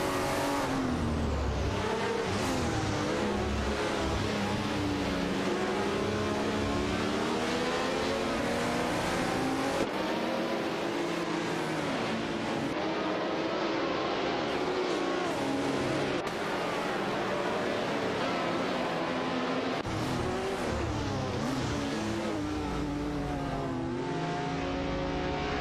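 Race car engines from an AI racing game, including a Renault Alpine 442B, roar continuously and loud, with shifting revs and overlapping cars throughout, no talk.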